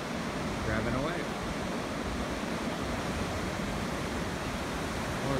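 Broadband ocean surf washes steadily over Supertubes beach at sunrise, a continuous, full roar of waves with no distinct breaks, loud and close, with no talk.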